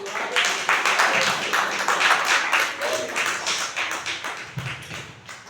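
A Baptist church congregation claps during a family service, a dense, lively round of hand clapping that holds steady for several seconds with faint voices underneath.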